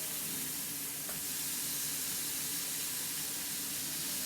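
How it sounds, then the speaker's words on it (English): Hamburger steak patties sizzle in a hot skillet, a loud, steady, broadband frying hiss that continues without pause, with no talking. "And you hear that sizzle."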